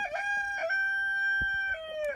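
A rooster crows loudly and close by in long drawn-out calls, with a few short clucks from chickens in between, on a homestead.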